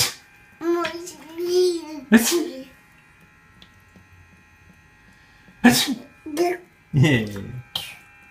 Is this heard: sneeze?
yes